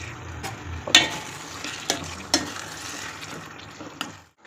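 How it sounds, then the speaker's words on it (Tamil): Ginger and chicken sauté in hot oil for a chicken gravy, giving a soft, low sizzle punctuated by a few sharp clacks of a spoon against the pan. "அது கூட கொஞ்சமாக இஞ்சி சேர்த்து அதையும் நல்லா வதக்கி எடுத்துக்கலாம்"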